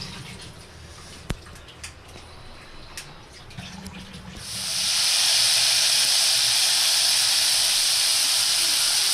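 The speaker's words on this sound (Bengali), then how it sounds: "জলটা ঝরিয়ে আমি চিংড়ি মাছটা আগে ভেজে নিচ্ছি" Drained prawns hitting hot oil in a pan for pottol chingri: quiet kitchen clatter with a sharp knock, then a sudden loud, sustained hiss of frying that stays steady and close to the end.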